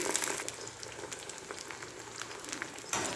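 An egg frying in oil in a pan gives a steady crackling sizzle with scattered sharp pops, close and continuous, rising to a louder burst near the end.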